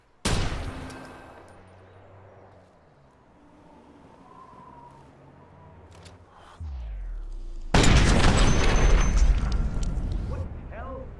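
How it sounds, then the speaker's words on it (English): A burst-fire sniper rifle in a video game cracks out loud shots, one near the start and heavier blasts later with a sustained roar after them, while a person talks in between. "Let's try this burst fire sniper."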